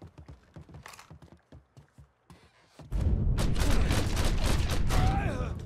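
AK rifle fire in the video game Mafia III, rapid close shots starting partway in and continuing as a loud sustained barrage, after a stretch of sparse clicks and footsteps.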